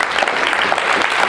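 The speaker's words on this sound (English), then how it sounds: "Give me a round of applause for that." An audience at a motivational speaking event claps in a brief, loud burst of dense, even applause from many hands, close and sustained throughout.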